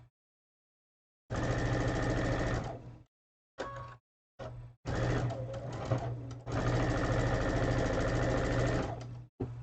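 A sewing machine stitches a quilt block in several close, loud bursts of steady motor hum separated by short pauses, with no voices during the runs.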